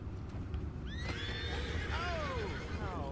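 In a Red Dead Redemption 2 game scene, a horse gives one rising, wavering neigh lasting about two seconds over a low rumbling background, fairly faint and close.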